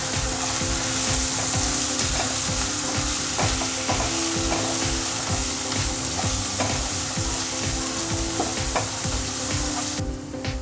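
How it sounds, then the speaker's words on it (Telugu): Masala being stirred in a frying pan for Andhra-style prawn curry with tamarind leaves, a steady close sizzle with rhythmic scraping strokes of the spoon throughout, no talking. "ఇప్పుడు ఈ మసాలా అంతా బాగా మిక్స్ అయ్యేలాగా కలుపుకుందాము"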